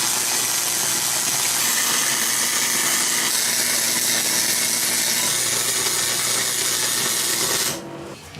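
Steady, continuous crackling hiss of a welder tacking steel on a DIY steel center channel speaker stand, close and loud for nearly eight seconds before cutting off abruptly near the end.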